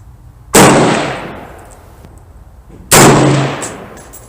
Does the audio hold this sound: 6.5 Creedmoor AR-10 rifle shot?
yes